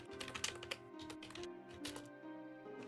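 Fingers typing a web search on a computer keyboard, quick close clusters of key clicks in short bursts with brief pauses, faint and alone.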